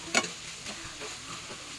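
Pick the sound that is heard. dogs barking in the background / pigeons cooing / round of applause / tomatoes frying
tomatoes frying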